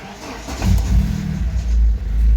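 An old Lada Kopeyka car engine turns over in a garage and catches, then revs up steadily to warm, a loud close rumble with no talk over it.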